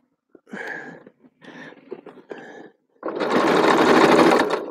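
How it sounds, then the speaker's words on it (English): A home sewing machine runs in one steady, loud stitching burst of almost two seconds, preceded by a few shorter, uneven bursts of sound. "My sewing machine's yelling at me."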